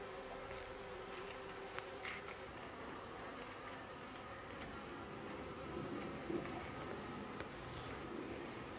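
Honeybees buzz around a Flow Hive hybrid feeder filled with sugar syrup, a faint, steady, continuous hum from many insects with no voices.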